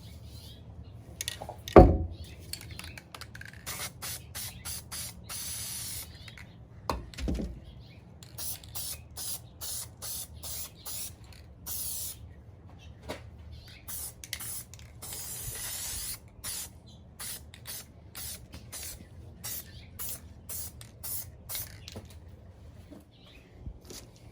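A spray gun lays mid coat paint onto a Cadillac CTS coupe rear bumper in a series of hissing bursts, short and long, with quiet gaps and faint shop clatter between.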